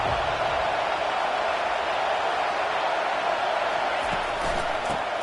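Steady, dense crowd roar fills a college football video game stadium, Ohio State against Florida, a broad wash of cheering noise holding level throughout with occasional whoops rising from the mass.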